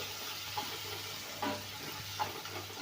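Turmeric and deggi chilli roast lightly in a hot pan as a soft, steady sizzle, with a few brief scraping stirs rising above it.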